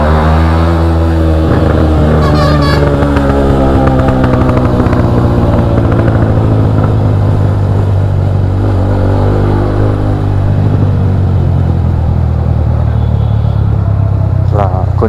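A TVS Apache RTR 200 motorcycle engine drones loudly and close while riding on the road from Bhimavaram to Hyderabad, the throttle easing open with a rising hum throughout and a voice talking over it.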